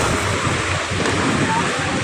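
Loud, close surf whipped up by a strong typhoon on Manila Bay, Navotas, rushing and churning with broadband noise, wind buffeting the microphone throughout.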